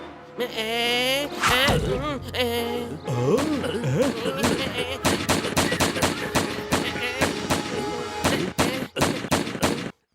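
Gunshots crack in a rapid series during an animated cartoon's target-shooting contest, sharp separate bangs with some quick bursts, close and loud, mixed with a voice and electronic tones early on.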